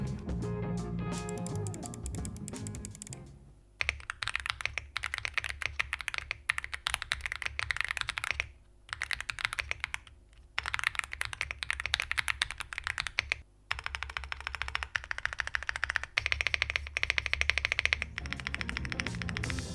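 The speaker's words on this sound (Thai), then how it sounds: "เสียงของบอร์ดตัวนี้ตั้งแต่ออกมาจากกล่อง" A stock Monka 6075 Pro mechanical keyboard is typed on in steady, rapid runs of crisp, close key clacks, with a few brief pauses between bursts.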